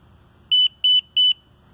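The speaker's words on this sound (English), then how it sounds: "you see the different code light up and the different code come through the buzzer" An Arduino buzzer sounds a coded response of three identical shrill electronic beeps, each about a fifth of a second long with short even gaps, loud and close against a faint low hum.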